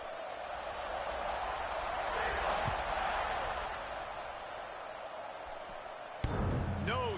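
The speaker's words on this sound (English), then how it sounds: "this crowd is buzzing after that last score" A football stadium crowd buzzes steadily after a score ahead of a kickoff, a dense, far-off roar of many voices that holds level throughout, with a sharp bump and brief clatter near the end.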